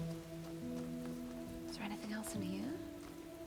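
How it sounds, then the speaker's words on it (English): Dark, steady rainfall in the video game The Talos Principle: Reawakened, a constant hiss of drops on surfaces beneath game tones and a person speaking briefly. "The rain is so dark."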